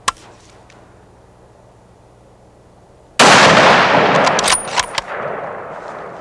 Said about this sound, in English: Good shot, Alan.